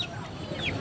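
A desi hen with a bare neck at a poultry market gives short, soft clucks over a busy, murmuring market background.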